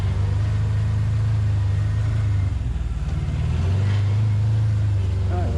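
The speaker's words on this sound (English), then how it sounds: "Just let it coast down with engine braking." A steady low engine drone hums from an off-road vehicle, a Talon or Commander side-by-side, engine braking while coasting downhill on a trail in Nova Scotia; the rumble is loud and close, dips briefly midway, and a voice talks over it.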